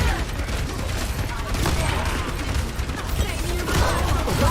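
Rapid gunfire rattles in a video game, a dense continuous fusillade of shots with a low rumbling bed, fairly loud and unbroken throughout.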